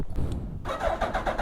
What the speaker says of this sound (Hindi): चलो इसे करते हैं कोल्ड स्टार्ट।